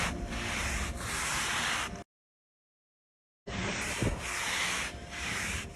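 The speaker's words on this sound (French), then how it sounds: "J'appuie bien quand même en frottant." A brush is pressed hard and scrubbed over black ring stains, giving loud rhythmic rasping strokes that break off into silence and then resume.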